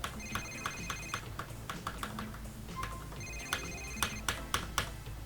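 A mobile phone rings in Grand Theft Auto IV with a repeating electronic ringtone in short bursts, mixed with quick keyboard clicks and taps from the player.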